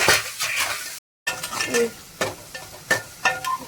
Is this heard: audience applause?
no